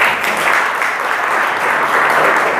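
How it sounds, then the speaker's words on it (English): Steady applause from a school classroom audience fills the whole stretch, dense and even, then cuts off abruptly at the end. "you can applause for me"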